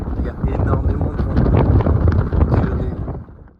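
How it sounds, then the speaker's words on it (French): Strong Mistral wind gusts buffet the microphone on a beach, a loud continuous rumbling roar that swells and ebbs for several seconds before easing off at the end. "Il y a énormément de vent."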